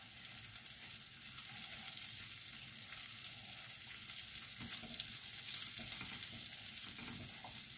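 Shrimp and garlic fry in a pan with a soft, continuous sizzle. The hiss stays even and gentle throughout, with occasional faint stirring sounds.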